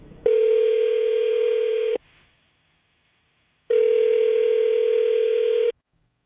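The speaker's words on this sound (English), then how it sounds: "I'll dial her phone number right now, see if we can get her on the phone" A telephone tone sounds as two long, steady, identical beeps separated by a pause of silence, clear and close, with no speech.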